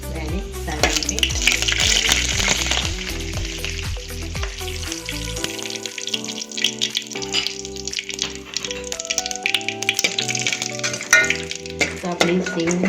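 Peanuts sizzle and crackle steadily in hot oil for a farali khichdi tempering, a loud continuous frying hiss with occasional stirring under background music.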